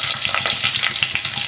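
Small onions sizzle in hot oil for tempering, a dense, loud, continuous frying hiss with faint stirring texture, heard close up without any talk.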